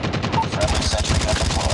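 Rapid automatic gunfire rattles in a dense burst during a Call of Duty Mobile match, loud and close, with game sound effects mixed in throughout.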